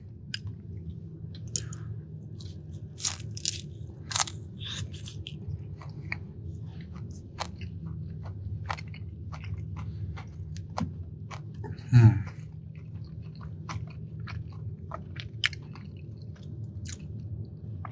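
Someone bites and chews a crunchy Doritos Locos Nacho Cheese Taco up close, giving scattered sharp crunches and wet chewing clicks over a low background hum, with one louder bite midway.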